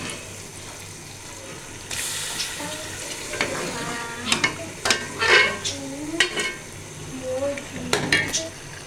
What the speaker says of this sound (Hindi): चले अब हम इसको पहले फ्राई करते हैं।